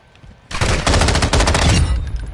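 An M13 rifle fires a rapid burst in the video game MW2 on PS4: near, loud automatic shots that cut in sharply, run for over a second, then trail off into echo.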